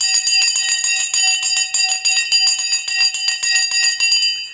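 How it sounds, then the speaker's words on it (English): A stock market opening bell rings in a rapid, continuous metallic clatter for several seconds, loud and close, then stops abruptly without any voices over it. "Ring the bell."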